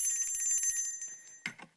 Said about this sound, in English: if you hear me ring the bell